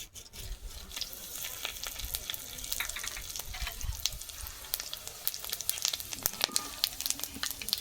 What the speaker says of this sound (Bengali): খুব সামান্য সর্ষের তেল দিয়ে দিলাম এবার গোটা গরম মশলা দিয়ে দেবো